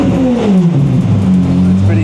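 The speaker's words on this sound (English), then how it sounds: "But if we rev it a little" Ferrari 550 Maranello engine revving with the AC and headlights on, a loud close V12 drone whose pitch dips and rises again, while a person talks over it.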